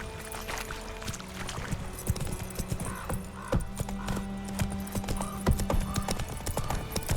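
Roach the horse gallops in a video game, quick rhythmic hoofbeats clopping steadily along a road under game music and ambient tones, with no talk.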